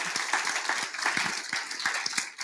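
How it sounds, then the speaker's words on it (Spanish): A church congregation applauds during a Spanish-language sermon, producing a dense, fairly loud patter of many hands clapping continuously throughout. "dale un aplauso al Señor si crees eso"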